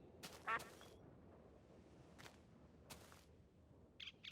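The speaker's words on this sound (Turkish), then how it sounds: "Bir ördek" A duck quacks in the Minecraft video game, a few short, soft calls standing out above a quiet ambient background, with a couple of faint bursts following later.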